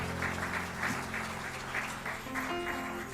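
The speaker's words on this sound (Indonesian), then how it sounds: "Berikan tepuk tangan dulu buat Tuhan" Congregation clapping during a church sermon, a moderately loud steady patter of many hands filling the room throughout, with faint tonal background music sustained underneath.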